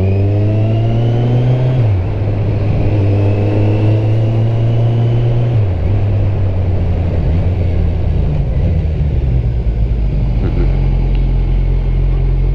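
Motorcycle with a WR3 clutch master cylinder and original brakes ridden along, its engine close and loud. The drone steps through gear changes, and the pitch rises and drops with wind rush.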